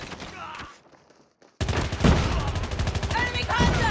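Rapid bursts of automatic gunfire and rattling shots from a Call of Duty Mobile hardpoint match, loud and dense after a brief quieter lull, with game effects layered over the shooting.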